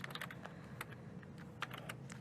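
Quiet, close typing on a computer keyboard, a quick irregular patter of light key clicks with no talking.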